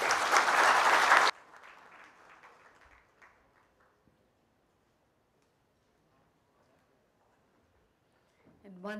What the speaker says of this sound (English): Once again, a warm round of applause